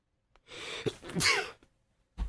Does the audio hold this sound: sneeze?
yes